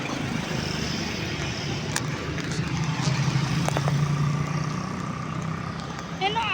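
Road traffic rolls along Andaya Highway in a continuous low rumble of passing cars and trucks, with occasional brief clicks and a faint higher tone near the end; no talk is heard.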